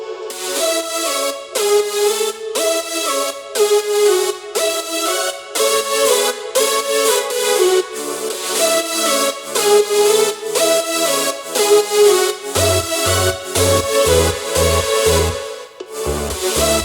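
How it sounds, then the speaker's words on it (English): Glitchy, stuttering synth chords in the drop of an electronic dance remix, loud and continuous, with choppy gated bursts and punchy low bass hits entering near the end. "the glitchy sound that you hear on the drop"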